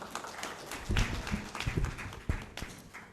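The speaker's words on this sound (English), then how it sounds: "Can we have a huge round of applause for him?" Audience applause breaks out for a speaker at a Gujarat industry and SME summit plenary session, a dense burst of clapping that swells around the one-second mark and continues steadily with scattered sharper claps.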